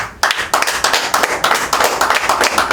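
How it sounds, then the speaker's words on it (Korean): An indoor audience at a talk bursts into applause, close and loud, with dense overlapping claps that start sharply and keep a steady, slightly pulsing rhythm. "박수 한번"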